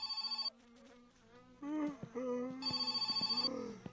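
A repeated electronic telephone ring sounds in bursts in the Finnish-played video game My Summer Car, with other game noises and a faint voice in between.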